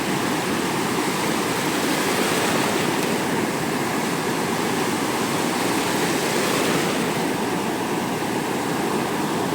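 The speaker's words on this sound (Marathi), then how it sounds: "डबल लाट आले सागर, डबल लाट आले." Sea waves breaking near a fishing spot on the Konkan coast, a steady loud wash of surf that roars continuously without pause.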